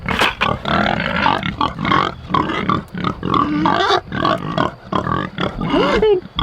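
Pigs being herded through a forest on a family farm grunt and squeal repeatedly and loudly at close range, the snorts continuous with brief pauses, while a person calls to them.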